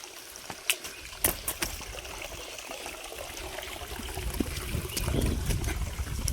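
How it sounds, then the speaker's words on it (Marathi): Cool stream water flows and trickles beside a village footpath where people stop to drink, a steady close splashing wash with a few sharper drips early on and a deeper gurgle building toward the end. "हे बघा वाहतं पाणी एकदम मस्तपैकी सुंदर थंडगार"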